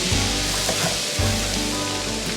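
Garlic sizzling in melted butter in a pan, a steady bright crackle that stays close and fairly loud throughout, with no talking.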